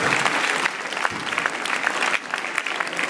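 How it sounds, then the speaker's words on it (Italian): An audience at a nativity scene award ceremony in Sorrento claps steadily, a dense crowd applause heard close and without pause for a few seconds. "prima del microfono facciamo un applauso"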